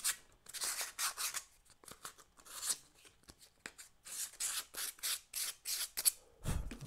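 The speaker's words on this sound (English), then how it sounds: "I may do just a little bit more sanding to kind of clean this up, make sure everything is good." Sanding a piece of a desktop skeeball game, a run of short rhythmic abrasive strokes, close and fairly soft, with no talking.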